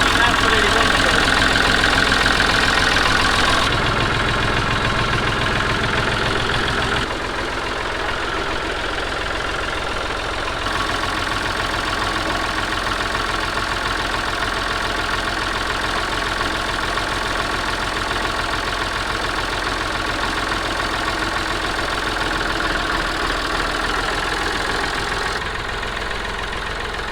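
A restored classic Massey Ferguson 135 tractor engine runs loud and close with a steady low chugging throb, the level easing slightly after the first few seconds and holding.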